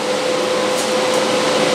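Metal grinding while shaping homemade sheet metal shrinking pliers: a loud, continuous, even hissing roar with a steady whining tone running through it, close by and uninterrupted.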